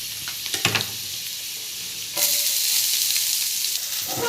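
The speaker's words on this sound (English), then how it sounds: "on high flame we have to fry these onions without mixing it" Sliced onions fry on high flame for chowmein, hissing and sizzling steadily and close. A few scrapes and stirring sounds come first, then the loud sizzle swells and holds.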